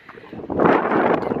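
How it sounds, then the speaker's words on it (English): Wind gusts across the Sahara desert at Merzouga, Morocco, buffeting the microphone as a broad rushing roar that builds after a quieter first half-second and stays loud. No one speaks. "It's quite windy and cold"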